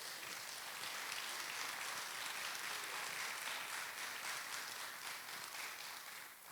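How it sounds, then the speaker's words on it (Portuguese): A church congregation applauds during a sermon, a broad, steady wash of many hands clapping at even loudness for several seconds, with no voices over it. "Você pode aplaudir a Deus por isso?"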